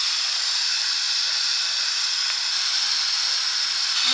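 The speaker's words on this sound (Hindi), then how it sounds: "तो हम कुकर में मैगी बना रहे हैं" Steam hisses steadily from a pressure cooker with Maggi noodles cooking inside, a loud, continuous bright rush lasting the whole stretch with no talk over it.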